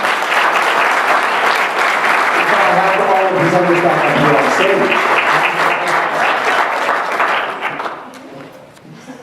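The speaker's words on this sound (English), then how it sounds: "Could I have another round of applause for all our presenters?" Loud, sustained applause from a conference audience for presenters on stage, with someone talking over it, fading out near the end.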